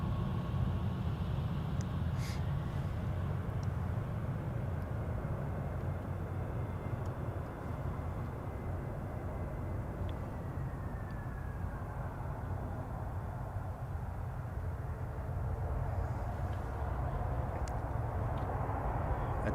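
Dassault Falcon business jet at night at Memphis cargo airport, a steady, fairly distant low engine rumble and roar that continues evenly for about twenty seconds, with no voices.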